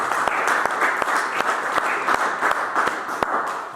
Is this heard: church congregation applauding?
yes